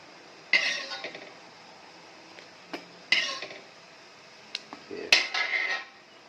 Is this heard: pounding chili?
yes